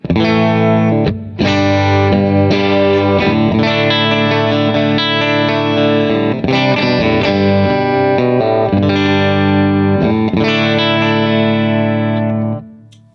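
An electric guitar plays a sustained chordal passage with rich harmonics through the clean channel of an Orange Rockerverb 50 Mark II amplifier, continuous and fairly loud for most of the clip before fading at the end.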